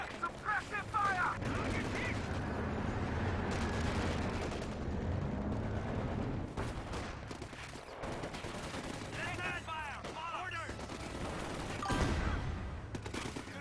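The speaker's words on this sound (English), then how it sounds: "Suppressive fire!" Sustained suppressive gunfire in the Company of Heroes 2 strategy game, rapid machine-gun bursts and rattling shots layered with heavier booms, continuous and dense throughout, with a voice talking intermittently over the battle noise.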